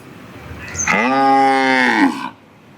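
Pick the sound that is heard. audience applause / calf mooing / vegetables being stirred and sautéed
calf mooing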